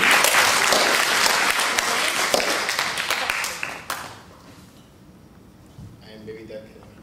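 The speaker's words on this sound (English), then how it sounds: "please give them a big applause for the night" A crowd bursts into loud, sustained applause with dense clapping, which fades away after about four seconds, leaving quiet room noise and a few faint sounds.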